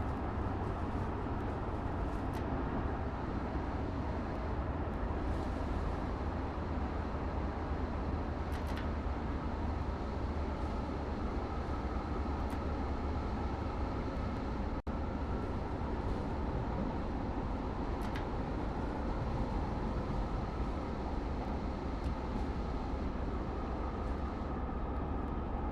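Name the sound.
NJ Transit train running with light braking, Train Sim World video game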